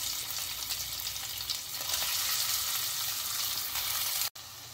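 Brinjal and soyabean frying in hot oil in a pan, a loud, steady, close sizzle that holds throughout, broken once by a brief cut near the end.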